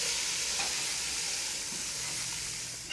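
A pot of chili with beans and seven cups of water bubbles at a boil, giving a steady, close, even hiss and simmering rumble with no talk.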